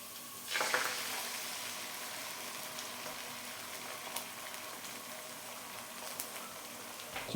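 An egg frying in a hot pan beside egg fried rice, sizzling steadily with scraping stir strokes and occasional spoon clicks against the pan, close and moderately loud, with no talking.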